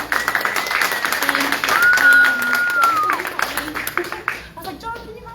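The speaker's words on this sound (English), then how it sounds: "So can we get a round of applause for Kangen Water?" An audience at a live Kangen Water demonstration claps in a dense, rapid patter that runs for several seconds, with a thin whistling tone and some voices mixed in before the clapping fades.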